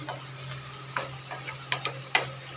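Bottle gourd and soya chunks are stir-fried in a pan, a faint sizzle punctuated by several crisp spatula clicks and scrapes at irregular intervals, close and fairly quiet.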